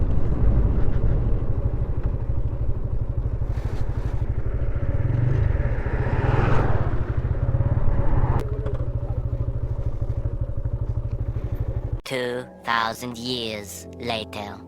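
Motorcycles of a riding group on a Purulia to Kolkata bike trip, idling and rumbling close by at a roadside stop, with clattering engine noise that gives way to people talking near the end.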